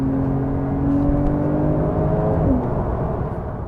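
A Porsche 911 Carrera S engine hums with a steady tonal drone, rising slightly before the pitch drops as it eases off, heard from inside the car.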